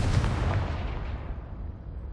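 A Confringo spell explosion in the Hogwarts Legacy video game bursts with a heavy boom, then its rumbling tail fades steadily over about two seconds.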